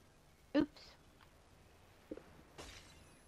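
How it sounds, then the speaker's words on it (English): Glass shatters upstairs in ARK: Survival Evolved, a single sharp, faint crash followed by a couple of small clicks, heard distantly under quiet game ambience. "I heard some glass breaking upstairs"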